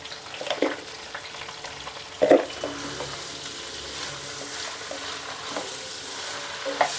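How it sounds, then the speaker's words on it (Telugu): Ivy gourd fry with turmeric and salt being mixed in a pan, a low sizzle with occasional scrapes and one louder clatter, close and fairly quiet, no voices. "ఒకసారి ఈ మొత్తాన్ని కలిపేసుకొని స్టవ్ని హై ఫ్లేమ్లో పెట్టుకొని"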